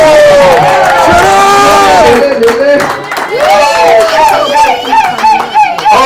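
Guests at a civil wedding ceremony erupt in loud, close cheering and shouting with overlapping voices, some applause mixed into the crowd noise.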